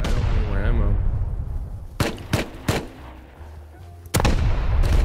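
Gunfire in Rust cracks loud and close, a few rapid shots in a cluster followed by another blast, with voices talking in between.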